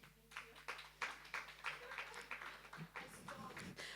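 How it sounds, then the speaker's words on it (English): Applause at a workshop session, a dense patter of many hands clapping at moderate distance, steady for about four seconds with faint background murmur. "Once again, a round of applause for Madame Stephanie."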